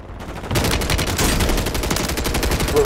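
Rapid automatic gunfire in Call of Duty erupts after a brief quiet start, loud and continuous bursts of shots dominating throughout with no talk over them.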